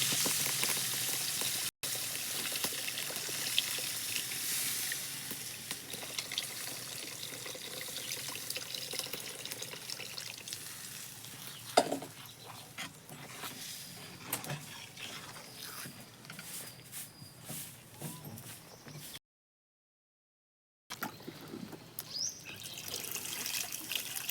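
Tamarind water is poured into a cooking pot, a steady splashing, trickling wash that runs for a long stretch, briefly cuts out, then resumes.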